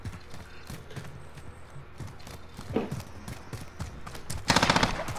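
Gunfire in Call of Duty Warzone (Cold War), a string of sharp shots and bursts at moderate distance, building to a louder rapid volley near the end.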